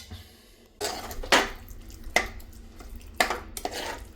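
Metal utensil stirring food in a pot, then a lid set down on top, making a few sharp clanks and scrapes spaced over several seconds, close and moderately loud with no talk.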